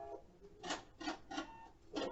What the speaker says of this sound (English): And then I'm going to cut my thread.